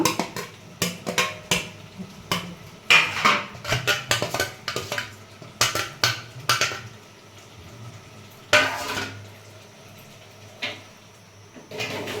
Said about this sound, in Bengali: আমি থালাইতে সর্ষের তেল দিয়ে দেবো এটা থালার চারিদিকে